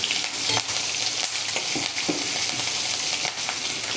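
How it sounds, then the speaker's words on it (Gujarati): Ajwain, asafoetida and green chillies crackle and sizzle in hot oil for a tempering for a curd-based cluster bean curry, a steady close frying hiss with a few louder pops, no voices. "તેથી અજમાનો વઘાર કરવો। થોડીક હિંગ અને લીલા મરચાં"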